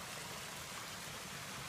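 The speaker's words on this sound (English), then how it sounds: "it goes down this waterfall" Water spills down a small waterfall into a man-made one-acre lake, a steady, even rushing hiss heard alone at moderate distance with no voices.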